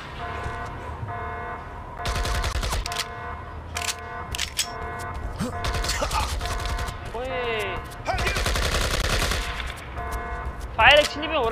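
Gunfire in the video game IGI, with repeated bursts of automatic fire and single shots over a droning soundtrack, fairly loud and close, with tonal game effects between bursts.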